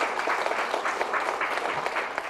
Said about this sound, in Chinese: 来，给这位朋友掌声鼓励。